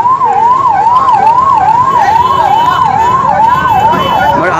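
A loud, close ambulance siren wails in a steady rising-and-falling cycle that repeats about every half second, with faint traffic noise underneath.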